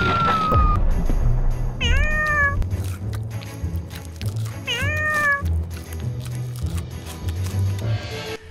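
Several domestic cats meow in clear, drawn-out rising and falling calls, two distinct bursts close to the listener, set against steady low background noise with no talking.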